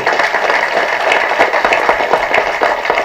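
Audience applause at a trailer launch event for the film Bottle Radha, with steady, dense clapping from many hands that fills the whole stretch at a loud, even level.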